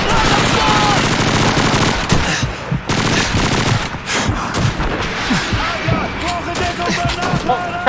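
Dense, loud battlefield gunfire in the World War II shooter Call of Duty 2, with rapid machine-gun bursts and rifle shots cracking continuously, mixed with shouted in-game voices and a constant roar of combat noise.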